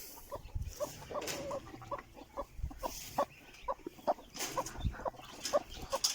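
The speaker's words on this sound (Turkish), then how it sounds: "Şimdi tavuklarımı salıyorum." Several chickens, including Leghorn and Plymouth Rock hens, cluck in short, irregular bursts nearby, soft and scattered against a quiet outdoor background.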